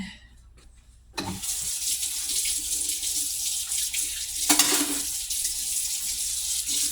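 Kitchen sink tap turned on after a second of near silence, then a steady rush of running water pouring into the sink while dishes are washed, with a brief splashing change midway.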